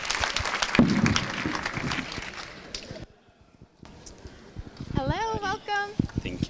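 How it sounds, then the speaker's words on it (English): Scattered applause for a speaker at an emergency medicine conference stage, brief clapping that fades into near-silence before people talk close by. "another round of applause for our speaker."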